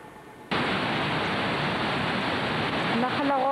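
A flooding stream rushes in a dense, steady roar that starts abruptly and holds loud and close, with a faint tonal sound near the end.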